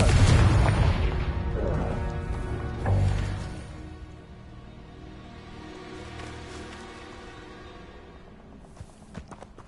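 A Confringo blasting spell goes off in Hogwarts Legacy, a loud booming explosion that fades into a long rumbling decay, followed by a second, smaller burst and scattered debris-like clatter.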